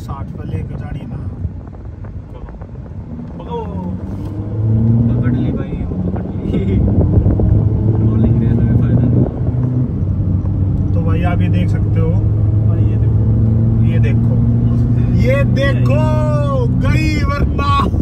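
A Mercedes A200d, a Creta Turbo and a Verna run a rolling race, heard as a steady engine drone with wind rush from inside a car, rising and louder midway, while someone talks over it.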